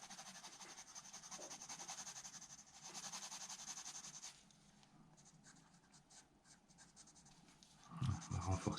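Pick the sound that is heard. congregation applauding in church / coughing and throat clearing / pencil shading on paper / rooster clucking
pencil shading on paper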